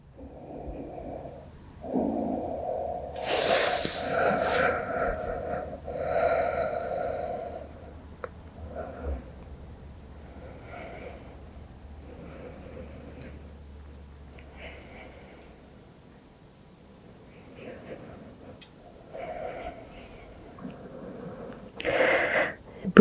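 Slow, audible breathing during a yoga child's pose rises and falls softly across a long stretch, close and quiet, with a few louder breaths and no talking.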